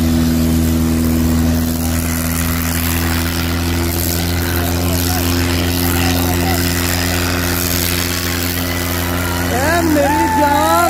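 Mahindra 575 XP Plus tractor engine running steadily during a pulling test against a Swaraj 855, a loud continuous low drone with strong harmonics throughout, with voices over it.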